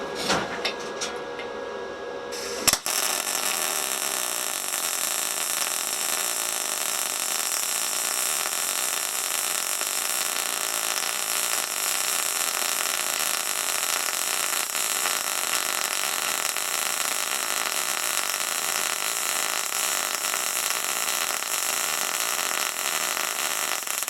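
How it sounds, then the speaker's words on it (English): MIG welding with a SIP synergic welder, a steady crackling buzz that starts abruptly after a short quiet hum and then holds loud and continuous for the rest of the run. "I'm going to weld that and I'm going to try and video it."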